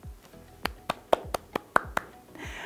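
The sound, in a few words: children clapping, round of applause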